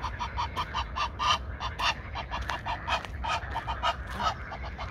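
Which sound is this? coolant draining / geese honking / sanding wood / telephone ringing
geese honking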